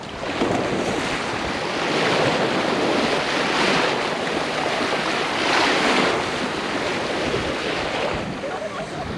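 Sea waves wash steadily around a sandbar at Palad, Marinduque, with open water all around, the surf rolling continuously and fairly loud, swelling in places under a layer of wind noise.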